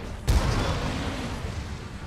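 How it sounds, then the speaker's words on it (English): Cannon fire in Monster Hunter World: a single loud, deep boom near the start, followed by a long rumbling tail that fades slowly under continuous game noise. "Firing cannon."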